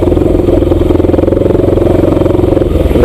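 Bajaj Pulsar 200 NS motorcycle engine rumbling steadily while riding slowly through heavy traffic, a loud close continuous mid-pitched drone with faint clatter and no talk.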